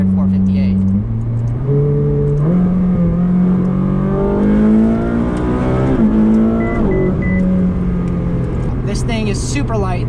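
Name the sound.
Ferrari 458 Speciale mid-engine sports car driving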